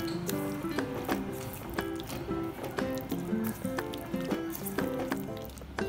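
Kadai paneer masala is stirred in a pan after kadai masala powder is added, making repeated wet squishing and scraping sounds in an irregular rhythm, close and moderately loud, with no talk.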